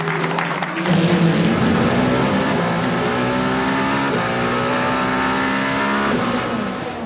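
Toyota prototype race cars at the 24 Hours of Le Mans 2023 roar past at full speed, loud engine drones rising and falling in pitch as the cars pass in quick succession, with crowd noise underneath.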